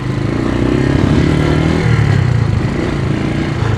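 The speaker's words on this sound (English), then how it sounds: "There's some more motorcycles." Loud, steady engine rumble throughout, like motorcycles rolling by close up, with no voices.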